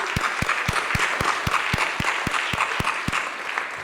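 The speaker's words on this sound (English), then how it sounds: "Special thanks, of course, to the Response Advisory Council, who just was applauded, but I will applaud you again." Audience applause at a teen-focused event, broad crowd clapping over a steady rhythmic beat of low thumps, like a drum or music pulse, about four per second, running throughout.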